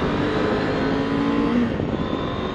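An A2-licence motorcycle pulls out to overtake a tractor on the road, its engine revving and pulling hard under acceleration, a loud continuous drone with wind noise, no talking.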